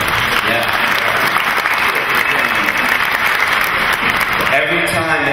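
A convention panel audience applauds, loud continuous clapping from a large crowd filling the room, with a voice rising briefly near the end.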